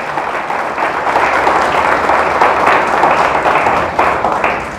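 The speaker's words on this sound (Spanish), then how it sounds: "Le damos un fuerte aplauso al Señor." A church congregation gives sustained, loud applause that swells and holds steady for several seconds, a dense wash of many hands clapping together in a worship service.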